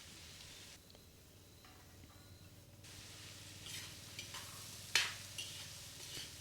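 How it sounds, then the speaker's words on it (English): Chopped carrots and green beans sauté in a pan with a quiet, steady sizzle, broken by a few soft stirring scrapes and one sharp utensil clink near the end. "Continue to sauté."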